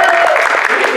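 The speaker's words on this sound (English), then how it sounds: "applause for Atimist." A brief burst of crowd clapping at a furry convention show, dense and loud, mixed with cheering voices.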